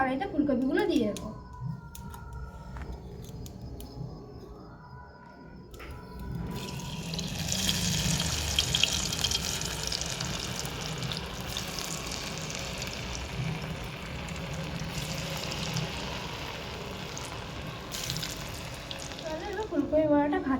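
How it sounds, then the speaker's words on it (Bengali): Cauliflower fritters sizzle and crackle steadily in hot oil in a wok, a continuous frying hiss heard under a person talking. "ফুলকপি বড়াগুলো করার জন্য কড়াইতে ফুলকপিগুলো দিয়ে দেবো।"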